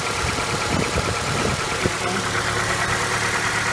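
A 2011 Ford Escape XLT AWD idles with its hood open, a steady close-up engine hum and whir with a faint periodic ticking, holding even throughout.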